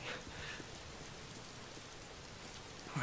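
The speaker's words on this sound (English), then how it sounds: "If it's not the freaks, it's the goddamn rain." Steady rain falls in the Days Gone video game, a dense even hiss of drops on surfaces, constant and fairly faint, with a slight swell at the very start and end.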